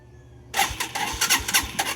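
A small engine cranks and catches after a brief pause, then runs rough and uneven with a misfiring stutter, loud and close.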